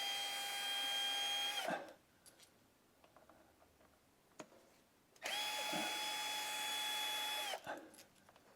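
A power tool removes screws from the transmission pan of a Mercedes 722.9 automatic gearbox, two high-pitched whirring bursts of about two seconds each, separated by a quiet gap with faint clicks and taps; no talking.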